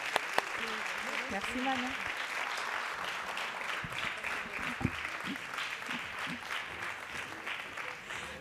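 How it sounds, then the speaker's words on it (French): An audience at a children's kamishibai storytelling awards ceremony applauds steadily throughout, a dense, moderate wash of clapping under a presenter's voice speaking over it. "on va vous applaudir encore bien fort pendant que vous rejoignez votre place"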